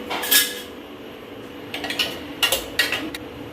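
A spoon works through a thick curd mixture in a bowl. Scattered metallic clinks and scrapes of spoon against bowl come in short bursts against quiet room noise, close by, with no voices.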